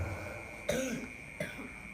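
Two short coughs, one followed by a brief throat-clearing rasp, from a man preaching at an Islamic boarding school in Pandeglang, heard close and fairly soft over a steady background hum.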